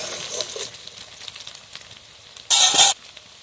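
Ginger garlic paste hits hot oil with potatoes and onions fried until reddish-brown, a soft steady sizzle with light stirring before a loud, bright hiss bursts up for about half a second near the end.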